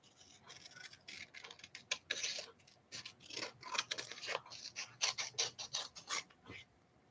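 Cards are cut into sections with scissors, giving a string of dry, rasping snips and rubbing strokes close up, irregular and fairly quiet, with no talking.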